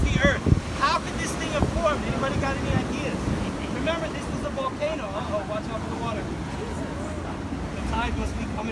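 Ocean water and waves wash against volcanic rocks on a shoreline at rising tide, a rough, continuous surge under gusting wind noise, with people talking over it.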